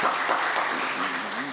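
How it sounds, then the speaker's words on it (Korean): A church congregation claps to welcome visitors during a Sunday worship service, producing a brief dense wash of applause with a voice faintly underneath. "일어나시면 잠깐 박수로."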